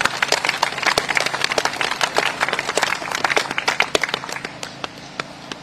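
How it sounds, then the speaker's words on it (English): Audience applause for the Commonwealth Children's Choir at a Commonwealth Day ceremony: dense, steady clapping from a crowd, loud and sustained, with sharp individual claps standing out and thinning slightly toward the end. "I think they deserve a huge round of applause"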